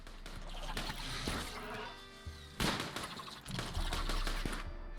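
Gunfire in the video game Rimworld crackles in rapid bursts, with a couple of heavier cracks standing out over a busy, constant game backdrop.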